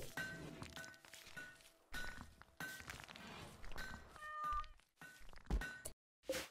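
A domestic cat meows a few times, short tonal calls rising over a busy, steady background with soft clinks and footstep-like taps; no one speaks.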